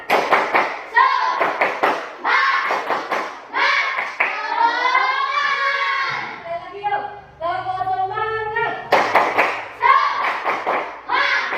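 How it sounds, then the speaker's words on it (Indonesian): A primary school class doing a rhythmic spirit clap, with bursts of patterned claps and thumps between children's voices chanting and a teacher speaking. "Jadi dulu, tepuk semangat."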